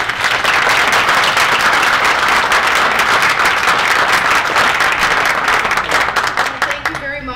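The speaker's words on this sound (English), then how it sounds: "let's give them a round of applause" Steady, loud audience applause at a League of Women Voters candidate forum, dense clapping sustained for several seconds before tapering off at the end.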